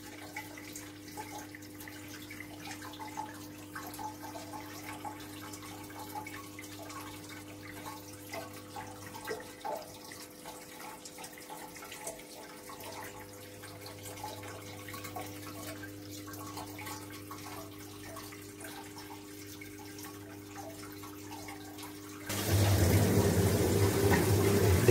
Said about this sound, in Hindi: देखिए देखिए ऑलमोस्ट पानी भर चुका है।